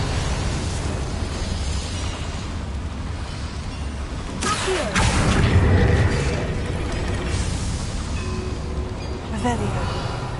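A Confringo blasting spell bursts inside a boiler room in the Hogwarts video game, a sudden loud boom with rumbling debris that swells mid-clip over steady game ambience and music, then trails off into a sustained low roar.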